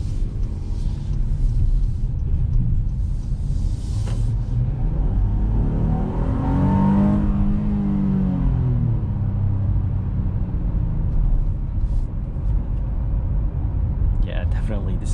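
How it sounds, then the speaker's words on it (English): 2021 Honda Pilot three-row SUV with a 3.5 V6, heard from inside while driving, a steady low engine rumble and road drone with a rising and falling whir near the middle, a voice talking over it at times. "Definitely this engine sounds good."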